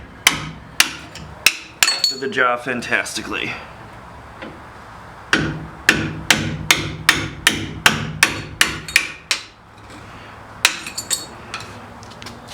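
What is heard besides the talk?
hammering flathead screwdriver on brake shims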